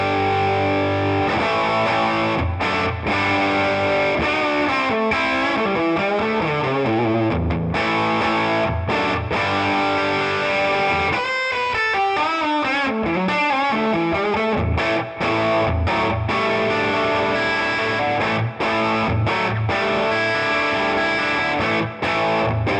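Green Gibson Les Paul electric guitar on its bridge pickup through a distorted lead channel at full volume and full tone, playing loud, sustained rock lead lines with bends and runs, with no talking over it.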